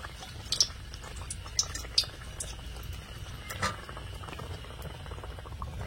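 Malpua batter made with ripe palm deep-frying in hot oil, a continuous bubbling fizz with occasional sharper pops and crackles, close and moderately loud without voices.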